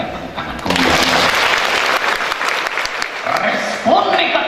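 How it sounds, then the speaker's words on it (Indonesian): A church congregation breaks into loud, sustained applause that swells and carries on for several seconds, with a voice heard faintly near the end. "Kita berikan tepuk tangan kemudian."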